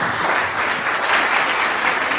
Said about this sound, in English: I believe he deserves a heartier hand clap than that.